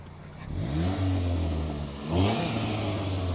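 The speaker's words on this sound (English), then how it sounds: "Rev the engine for me." A Pontiac Solstice sports car revs up close, its engine climbing in pitch through two quick throttle blips, then settling back to a steady idle between them.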